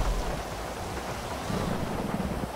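A car in a rally video game splashes through water, making a loud, continuous rushing wash with churning low rumble throughout, with no talk.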